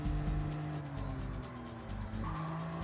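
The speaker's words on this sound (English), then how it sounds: "listen to how this car sounds" A race car engine in Gran Turismo 7 drones steadily at high revs, with shifting pitch and a brief tire-squeal edge as the car drives; no talking over it.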